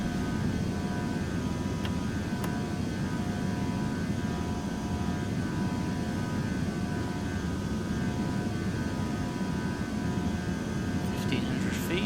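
Airliner engines at climb thrust after takeoff in the FSX flight simulator make a continuous loud, even roar and whine in the cabin, with occasional faint clicks and brief cockpit voices.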